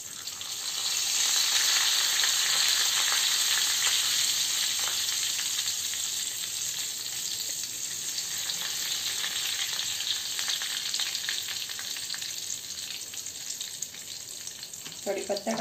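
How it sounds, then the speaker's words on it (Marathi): Curry leaves sizzle and crackle in hot oil with cumin and asafoetida while tempering for Mumbai-style batata vada, a steady loud frying hiss that holds throughout and continues on its own. "त्यानंतर आपण लगेच त्याच्यातच कढीपत्ता टाकूया."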